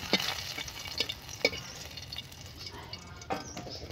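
Chillies frying in a pan, a quiet low sizzle with a few sharp clinks and scrapes of stirring at irregular moments, faint and close.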